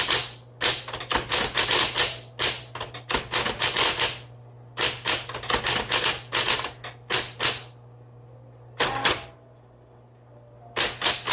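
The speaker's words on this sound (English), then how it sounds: "All right, let's go ahead and do some typing." Keys strike a 1970s Smith Corona Coronet Super 12 manual typewriter in rapid clattering runs, broken by brief pauses and a few isolated clacks near the end.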